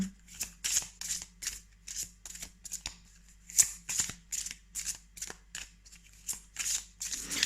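Oracle cards being shuffled and drawn by hand, a rapid series of crisp papery riffles and slaps in a quiet room, with no talking.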